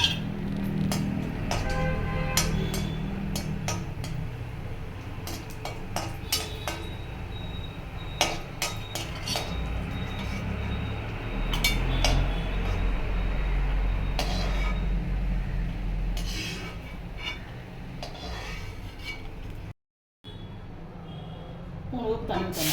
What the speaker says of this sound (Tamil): முந்திரியை நெய்யில் போட்டு வறுக்கவும்.